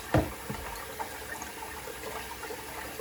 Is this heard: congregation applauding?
no